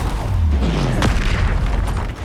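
Bombarda spell explosion in the video game Hogwarts Legacy: a loud, deep booming blast with a sliding low rumble that fills the whole clip, with no talk.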